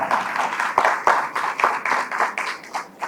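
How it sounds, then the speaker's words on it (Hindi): An audience clapping in a continuous patter of hand claps, fairly loud and close, steady for the whole stretch with no other sound. "तालियां।"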